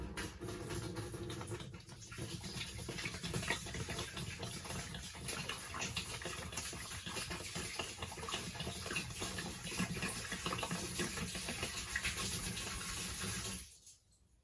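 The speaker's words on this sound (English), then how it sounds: "Put my water in." Water pours steadily into an RV fresh water tank for several seconds, a full, constant rushing splash that stops abruptly at the end.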